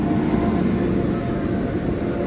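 Steady low rumble of a train passing at Copenhagen Central Station, a continuous heavy mechanical drone with no breaks, fairly loud throughout.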